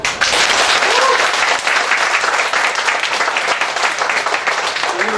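An audience at a workshop lecture bursts into loud, dense applause. The clapping is sustained and energetic for about five seconds, then tapers slightly near the end.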